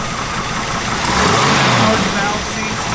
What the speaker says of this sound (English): You're going to hear just a little bit of cam upgrade, nothing crazy.